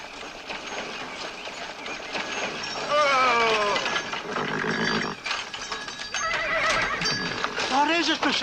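A horse whinnies several times with rising and falling squeals over clip-clopping hooves, fairly close, as people talk throughout.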